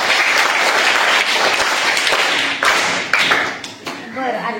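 Schoolchildren at a village primary school applaud a classmate's correct quiz answer, loud close clapping from a group that thins and becomes ragged toward the end.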